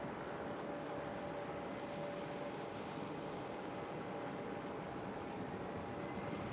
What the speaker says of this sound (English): And another KLM Cityhopper E195 E2, all taxiing out already